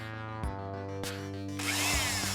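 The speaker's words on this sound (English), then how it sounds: "So I'm drilling them in to make sure that there's a good fit" A steady power drill whirs close up, drilling into plastic action figure parts, its motor pitch shifting as it bites into the material, with no talking.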